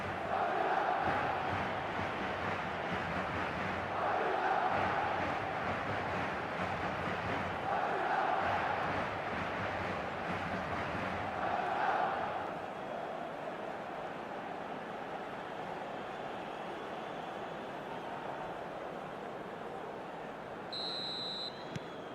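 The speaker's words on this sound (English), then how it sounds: "The crowd are calling for this to be put to bed." Stadium crowd noise from an eFootball match, a broad continuous roar with rhythmic chant-like swells over the first half that settles into a steadier, softer murmur, heard at a distance with no talk.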